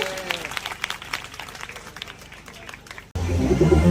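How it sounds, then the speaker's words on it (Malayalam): Audience applause at a nursery school anniversary celebration, a dense patter of many hands clapping steadily for about three seconds before it cuts abruptly to louder, fuller crowd noise. "എല്ലാരും നല്ല കൈയടി കൊടുത്ത"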